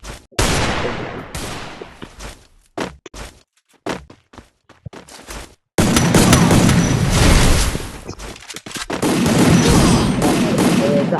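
Bursts of gunfire from a shooting video game, starting as scattered sharp shots with gaps and building into dense, sustained automatic fire with loud booms in the second half.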